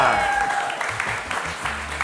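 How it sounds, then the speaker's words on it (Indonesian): Studio audience clapping on a Malaysian entertainment TV show, a broad patter of hands throughout, with a sustained tone fading early on and brief speech-like bursts underneath. "Tepuk sikit, tuan-tuan dan puan-puan."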